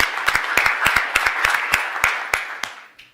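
Sparse audience clapping at a college board of trustees meeting, a handful of separate sharp claps in an uneven rhythm that thins out toward the end.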